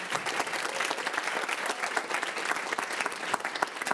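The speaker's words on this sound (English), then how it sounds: "give a big round of applause to all of our finalists who just presented today" Audience applause for competition finalists at a challenge finals plenary session, a dense, steady wash of clapping from a large crowd that holds at an even, full level throughout.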